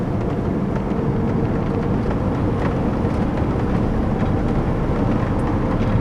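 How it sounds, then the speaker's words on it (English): Engine of a 1998 Mercedes-Benz SLK230 while driving, a loud steady low drone with road noise, continuous and close throughout, no talking. "step on the gas, it can make a lot of noise if you want it to"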